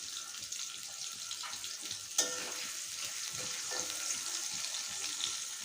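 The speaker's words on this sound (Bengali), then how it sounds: "আমার তেলটা গরম হয়ে গেছে। আমি প্রথমে আলুগুলো ভেজে নেব।" Potatoes fry in hot oil in a wok, making a soft, steady sizzle with light stirring scrapes and a single sharp clack partway through.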